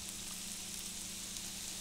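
Plantain slices frying in a pan, giving a steady, even sizzle and crackle of hot oil that holds constant throughout, close up, with no talking.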